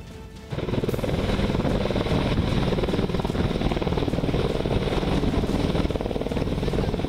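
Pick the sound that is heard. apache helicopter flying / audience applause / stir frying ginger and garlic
apache helicopter flying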